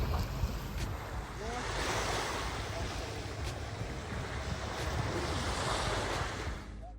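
Ocean waves washing onto the white-sand beach at Nungwi on the north end of Zanzibar, a continuous broad surf roar with some wind buffeting the microphone, fairly close and steady throughout.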